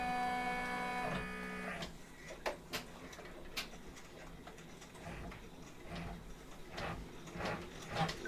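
An embroidery machine stitches out walkway fabric for a door project, its needle ticking in a quick steady mechanical rhythm with small clicks and ratchet-like taps, close and moderately loud with no talking.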